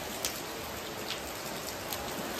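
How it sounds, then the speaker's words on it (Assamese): Heavy rain pours steadily outside a house veranda, a dense, continuous hiss with occasional louder drips and splashes standing out, no voices heard. "চাওক কিমান বৰষুণ"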